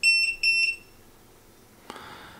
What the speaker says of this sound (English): And there it goes beeping again.